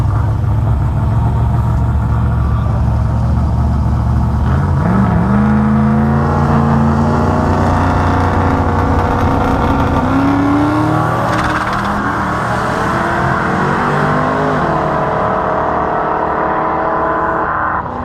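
Street cars in a no-prep drag race, including a black Ford Mustang, roar hard off the line, engines climbing through rising revs and gear changes, loud and sustained with a dense crowd-and-track wash.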